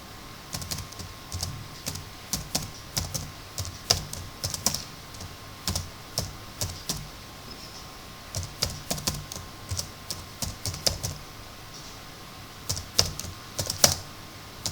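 Steady bursts of typing on a computer keyboard while entering C program code, with crisp key clicks in irregular clusters throughout, close and fairly quiet against a faint background hum.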